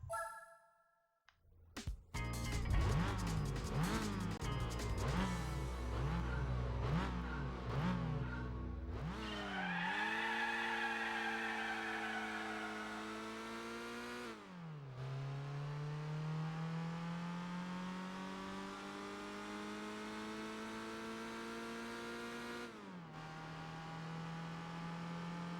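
A Renault Megane races in Gran Turismo 4, its engine note rising and falling through gear changes, then settling into long steady revs as it brakes and pulls away again, loud and continuous with no talk.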